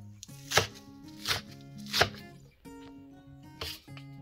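Purslane is chopped on a board with a knife, giving four sharp, fairly loud chops at an uneven pace over a faint steady hum, and no one speaks.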